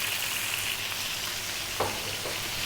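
Onion sizzling in a pan for a creamy garlic chicken dish, a steady, close hiss of frying with one brief scrape partway through.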